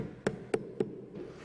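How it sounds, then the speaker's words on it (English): Three evenly spaced, sharp taps of a rubber hammer driving plastic cap plugs into a pipe end in a motorhead garage, close up and crisp, over a low background hum. "take the cap, pop it in, take a rubber hammer to it,"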